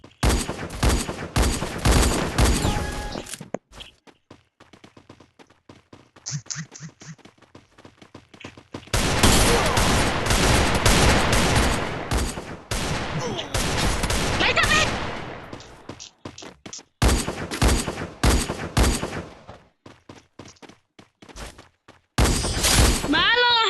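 Gunfire from a mobile shooter video game rattles in long dense bursts and shorter volleys, loud and close, with quieter gaps between them and a voice speaking at times.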